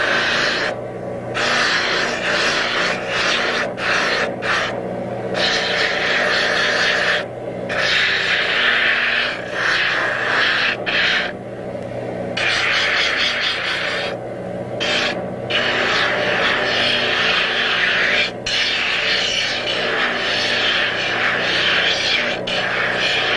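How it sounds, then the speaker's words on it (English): A 36 grit drum sander shapes the tail and breast of a wooden decoy in Havre de Grace, Maryland, with a loud, continuous abrasive roar that dips and swells as the carving is pressed and lifted. "now we're going to shape the tail and the breast on the 36 grit drum sander"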